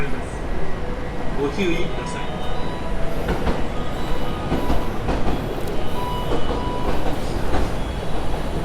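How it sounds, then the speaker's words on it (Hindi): A JR local train in Japan pulls away from a station with a continuous low rumble, rhythmic wheel clatter and faint squeals, nearby, while someone talks over it. "शायद ये ट्रेन निकल रही है"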